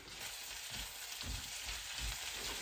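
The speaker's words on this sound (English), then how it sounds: "I'm just mixing the vegetables and making sure that they're frying evenly" Vegetables fry in a pan with a steady, close sizzle while a spatula stirs them, giving faint soft scraping pulses under the hiss.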